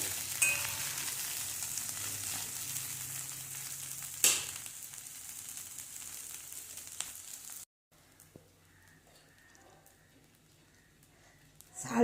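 Flattened rice (poha) being stirred in a frying pan for aval upma, heard as a moderate frying hiss with a sharp clack near the middle, then an abrupt drop to near silence and quieter rustling.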